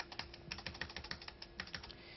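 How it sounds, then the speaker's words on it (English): Arrow keys tapped on a 1985-era computer keyboard while adjusting a business spreadsheet, a quick uneven run of close, crisp clicks with short pauses, no voices. "we can use the arrow keys to adjust this"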